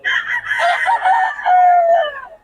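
Roosters from Batangas crow loud and close, one long cock-a-doodle-doo rising and stretching out, with faint clucking around it and no talking.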